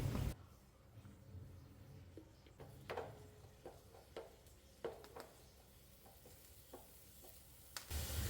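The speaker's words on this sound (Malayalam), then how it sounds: "ഞാൻ അതിലേക്ക് കുറച്ച് ഉള്ളി കാച്ചി ഒഴിക്കാം" Shallots frying in hot oil as a tempering for snake gourd curry, a faint, steady sizzle broken by repeated light clinks and scrapes of a stirring spoon.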